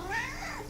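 One short, soft cat meow, a brief rising and falling call at low volume.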